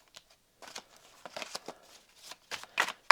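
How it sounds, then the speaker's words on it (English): Tarot cards being shuffled by hand, a close series of quick papery riffles and soft slaps in uneven bursts, with brief pauses between them. "A bit more of a shuffle."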